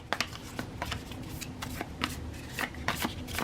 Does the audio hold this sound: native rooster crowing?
no